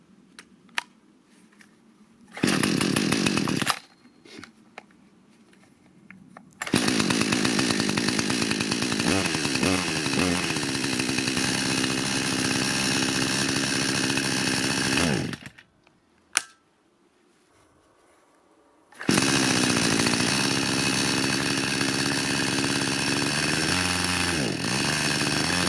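A Lidl Parkside petrol chainsaw is pull-started, with short bursts of engine noise between silent gaps, then catches and runs loudly at a steady, close buzz, stalls briefly, and fires up again.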